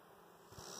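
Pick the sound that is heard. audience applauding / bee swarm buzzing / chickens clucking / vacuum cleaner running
bee swarm buzzing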